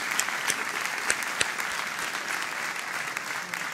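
Steady applause from a theatre audience, dense and even throughout with a few sharper claps standing out, moderately loud and with no talking.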